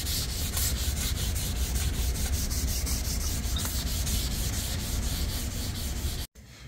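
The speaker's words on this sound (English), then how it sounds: "sanding everything in 180 at this point" Sanding body panels on a 1963 Buick Riviera with 180 grit over a dry guide coat, a loud, steady rhythmic scrubbing of many quick back-and-forth strokes that stops abruptly near the end, with no talking.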